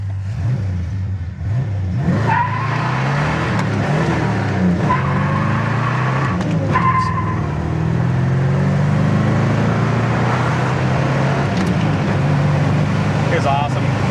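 A 1968 Pontiac GTO convertible with a 400 engine and 4-speed cruising on the road, its engine holding a steady low drone with some rise in revs under wind and road noise, while people talk over it throughout.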